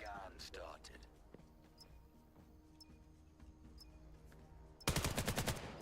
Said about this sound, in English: Mummick finding the headshot on the Void.